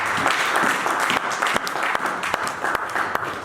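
Church congregation applauding steadily throughout a French-language worship service, a dense wash of many hands clapping at close range with scattered louder claps standing out.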